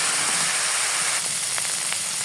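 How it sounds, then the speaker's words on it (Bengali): Spice paste of ground garlic, onion, turmeric and chili powder sizzling in a pan, a steady close hiss of frying with a few faint crackles and no voices. "এখন মশলাটা ভালোভাবে আমি কষিয়ে নেব।"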